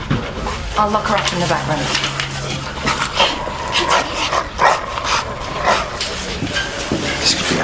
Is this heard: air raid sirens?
no